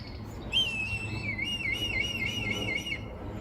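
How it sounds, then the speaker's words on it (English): A red kite calls overhead with a long, wavering, high whistled cry that rises and falls, clear and fairly close, over soft outdoor background noise and no talking. "There's a very noisy red kite up there somewhere."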